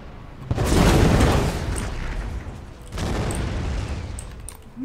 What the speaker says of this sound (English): howitzers is going to ready and fire